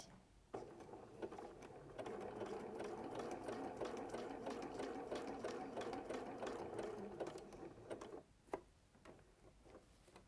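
A sewing machine stitching continuously round the middle of a piece, a steady fast mechanical whir running for about eight seconds before stopping, close and prominent, with no talking.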